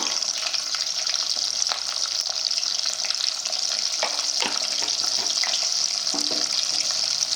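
Turmeric sizzles in hot oil as a curry base for cucumber, with a continuous close crackle and occasional scrapes of stirring.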